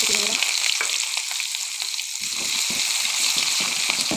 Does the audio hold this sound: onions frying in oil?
yes